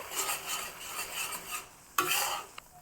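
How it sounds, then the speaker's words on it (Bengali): Onion frying in bubbling oil for a Bangladeshi mustard hilsa dish, stirred constantly, with a bright steady sizzle and occasional clinks of a utensil against the pan, close by with no talking. "পেঁয়াজটা হালকা একটু ভেজে নিব জাস্ট এক মিনিটের মতো"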